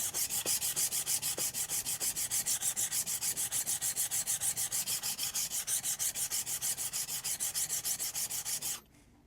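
A large steel chisel is sharpened on a stone in steady, rhythmic back-and-forth strokes, a close, loud rasping scrape repeating about three times per second, with no talking, ending abruptly.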